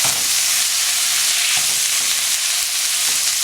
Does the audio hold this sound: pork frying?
yes